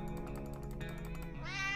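Cartoonish kitten meows from the survival game 60 Seconds, a steady run of high mewing tones ending in a rising, wavering cry, loud and close, with no talking.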